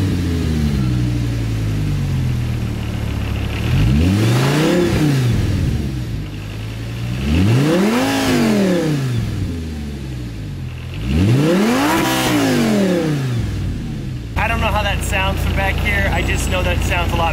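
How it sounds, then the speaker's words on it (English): A stock Audi R8 V10 supercar engine revs loudly three times, each blip rising sharply and falling back to a deep idle, heard close up, with a person talking near the end. "let me let you listen to the stock Audi R8 V10."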